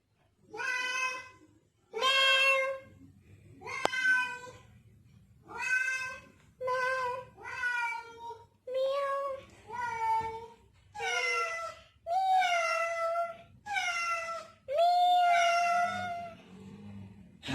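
A toddler's voice imitates a cat, giving about a dozen high, drawn-out meows in a steady rhythm, close and clear, with short pauses between each cry.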